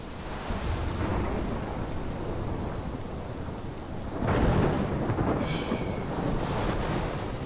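A thunderstorm rages in the video game Life is Strange: steady heavy rain and wind with a deep rolling thunder swell midway, loud and continuous, with no talking.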